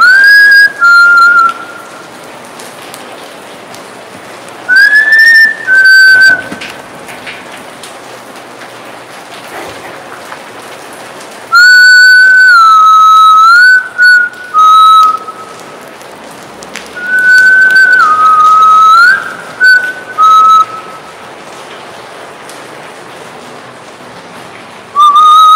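Person whistling in a series of clear melodic phrases with sliding pitches, bursts separated by quiet gaps against a soft pattering background, close and loud, with no speech.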